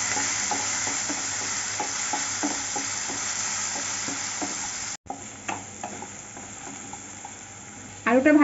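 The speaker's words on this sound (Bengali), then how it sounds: "এখন ভালো করে নাড়িয়ে চাড়িয়ে ভেজে নেব।" Potatoes seasoned with salt and turmeric fry in a pan while a spatula stirs them, giving a steady close sizzle broken by repeated scraping strokes and a louder clatter near the end.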